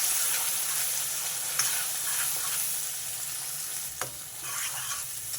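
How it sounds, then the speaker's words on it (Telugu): Tomato-onion masala gravy frying steadily in oil for a drumstick curry, a continuous close sizzle with a few soft stirring scrapes and clinks, no talking. "ఈ గ్రేవీ కొంచెం మగ్గాలి ఆయిల్లో"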